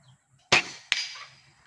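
A PCP air rifle fires a single shot, a sharp close crack followed by a second quick snap as the pellet hits the target downrange, otherwise quiet.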